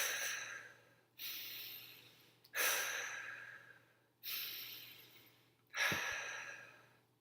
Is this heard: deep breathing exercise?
yes